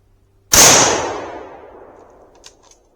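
A single loud rifle shot from a Savage rifle, fired outdoors, with a sharp crack followed by a long rolling echo that fades over two seconds, then a couple of faint clicks.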